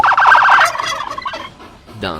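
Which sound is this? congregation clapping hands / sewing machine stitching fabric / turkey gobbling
turkey gobbling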